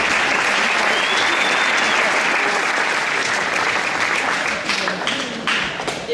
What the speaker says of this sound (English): Clap that.